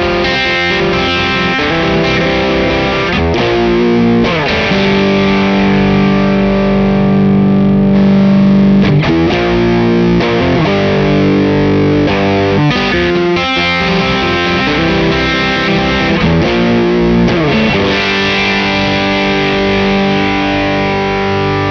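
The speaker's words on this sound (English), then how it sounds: "engage the module 4, and then hold the foot switch, and you'll hear the expander working" Distorted electric guitar riffing with heavy overdrive, sustained chords and palm-muted chugs, loud and continuous, with the background noise kept quiet between notes by a noise expander on a DryBell Module 4 compressor pedal.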